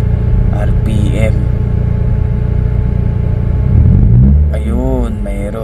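Nissan Almera engine idling with the air conditioning on, a steady low rumble with slightly unsteady revs, heard close and continuous beneath someone talking.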